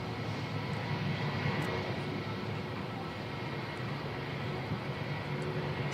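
Fixed-wing airliner on flight NZ5328 departing Christchurch Airport in New Zealand for Wellington in strong gusty winds, a steady broadband engine roar holding loud and constant throughout with no talk.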